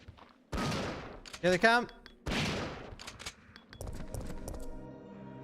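Gunfire in Resident Evil 3 on GameCube, a few sharp shots scattered between bursts of talk, with game sounds and a low background hum.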